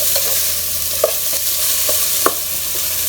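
Onions fry in a pan for tomato bath, a constant bright hiss of sizzling oil, close and steady, with a few light clicks from stirring scattered through it and no voices.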